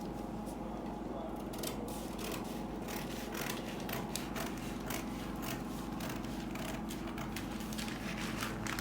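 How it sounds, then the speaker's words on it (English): Scissors trim fabric while a simple A-line gown is being cut: a continuous string of quiet, crisp snips and rubbing sounds repeats steadily over a low background hum. "So the next step now is to trim."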